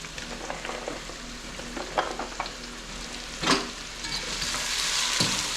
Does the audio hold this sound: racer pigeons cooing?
no